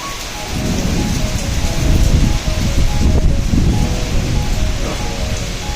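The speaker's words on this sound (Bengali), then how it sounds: "প্রচণ্ড হাওয়া দিচ্ছে প্লাস বৃষ্টি হচ্ছে।" Strong gusty wind and heavy rain from a storm make a loud, continuous roar and rush, with low rumbling surges, no voices.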